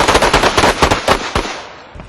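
Rapid automatic gunfire rings out during a police tactical training exercise, a loud close burst of many quick shots in a tight rhythm that thins out and fades after about a second and a half.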